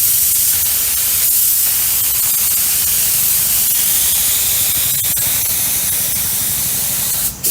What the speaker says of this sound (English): This is using the spray method versus using the brush-on method.